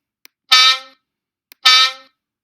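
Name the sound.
air horn sound effect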